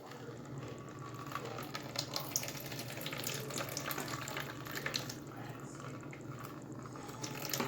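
Water streams steadily out of holes in a container during a home science experiment, a continuous splashing, trickling flow like a small waterfall, close and fairly even throughout with no talking.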